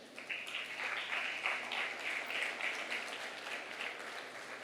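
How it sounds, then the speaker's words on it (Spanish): Sustained clapping from a church congregation, steady and fairly faint, lasting throughout with no voices. "Dale un aplauso a Dios."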